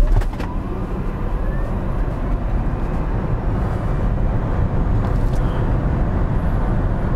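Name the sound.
Kia EV6 electric car accelerating hard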